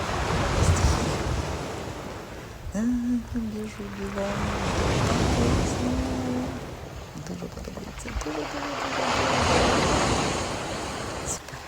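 Sea waves wash against a rocky Albanian coastline in rolling surges, with gusty wind buffeting the microphone, while people talk throughout.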